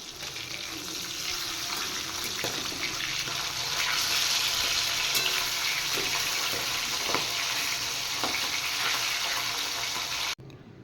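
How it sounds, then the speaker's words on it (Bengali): Fresh whole fish frying in a pan of hot oil give a loud, steady sizzling hiss with scattered sharp pops and spatters, continuous for about ten seconds before cutting off abruptly. "মাছগুলো ফাটছে দেখুন আমার হাতে ছিটল তেলটা"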